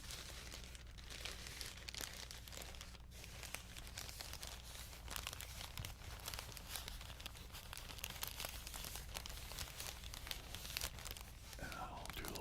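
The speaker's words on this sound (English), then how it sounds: "I'm doing the crinkling over there" Steady crinkling and crumpling of material close up, a dense continuous rustle with sharp tearing-like textures, mixed with soft whispering throughout.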